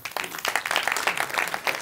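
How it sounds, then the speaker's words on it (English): A conference talk audience applauds in a short, lively burst of many hands clapping, close and fairly loud, with no talking. "So thank you for clapping"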